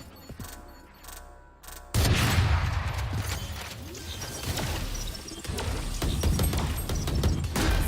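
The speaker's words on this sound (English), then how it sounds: "Grenade out!" A grenade goes off amid tactical shooter gunfire, a sudden loud burst after a quieter stretch, followed by dense crackling shots and impacts that continue to the end.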